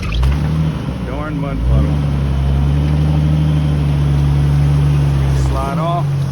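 A Jeep Wrangler TJ with a 4-liter engine revs hard while stuck in mud, its steady loud drone rising and falling in pitch, with people talking over it.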